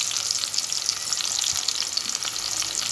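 Eggplant pieces frying in hot oil in a pan, a steady dense sizzle with crackling that stays loud and even throughout, close by, with no talking.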